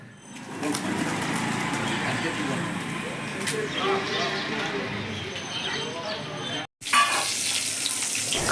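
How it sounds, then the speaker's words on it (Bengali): Fish frying in a pan gives a dense, steady sizzle that runs almost without a break, drops out for a moment near the end, and then resumes. "গাইস, বাজার হয়ে গেছে, এখন মাছ ভাজা চলছে।"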